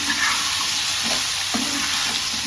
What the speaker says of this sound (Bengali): আমি ভাজি করতেছি এটা